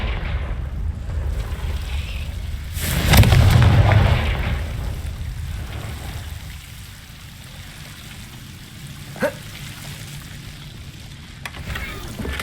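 An explosion spell from the wizarding game Hogwarts Legacy, a single loud burst with a rumbling tail near the start, followed by quieter ambient game sound and a brief click later.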